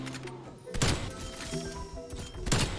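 Sniper rifle shots in a first-person shooter video game ring out as sharp, loud cracks, one near the start and another near the end, over busy game noise and low background chatter.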